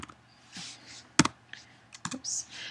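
A few quick clicks and taps on a computer keyboard while entering text, sparse bursts with pauses between them, with a quiet voice speaking softly in the background.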